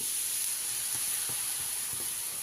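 Water sprinkled onto a hot pan on medium flame gives a steady, faint sizzling hiss throughout, with a few soft ticks and pops.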